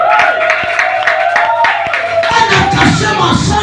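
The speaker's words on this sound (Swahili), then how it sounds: "makofi ya Yesu jamani" A church congregation claps in praise of Jesus, a steady run of close, rhythmic handclaps with a busy crowd and voices mixed in underneath.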